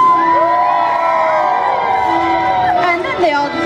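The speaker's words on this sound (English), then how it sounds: "Everyone threw their arms high into the sky and let out one last great big cheer." Children cheer loudly together at the close of a park play performance, a continuous crowd of high voices shouting and whooping that fills the whole moment.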